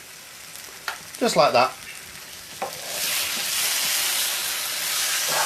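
Pre-cooked roti warming on a hot tawa gives a steady, rising sizzle and hiss that builds and holds for several seconds, after a brief spoken remark.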